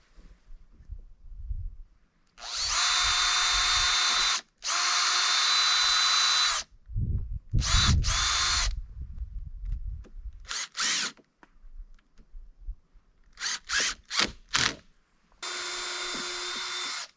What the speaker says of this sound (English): So I just drill a pilot hole first and then put a screw in it.